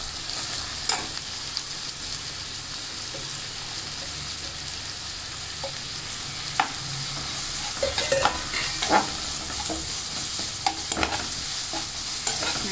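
Curry leaves fry in hot oil for a squid fry, making a dense, steady sizzle with scattered pops and spatula scrapes, close and fairly loud without any speech.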